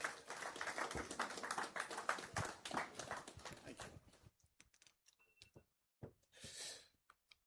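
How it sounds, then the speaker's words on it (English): Applause for a speaker at an energy-day event, dense clapping for about four seconds that thins into a few scattered claps, then near silence with a soft rustle. "Please, a round of applause for him."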